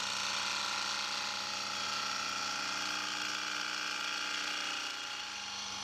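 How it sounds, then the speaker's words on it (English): A 3/4 inch roughing out gouge strips waste from dense, oily wood spinning on a lathe, giving a steady, close, unbroken rough cutting and rattling noise with no talk. "A 3/4 inch roughing out gouge is being used to quickly remove the waste wood."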